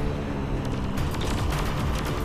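Rapid, dense gunfire fills a Saints Row IV shootout, sustained bursts and booms running continuously at close range with no pauses.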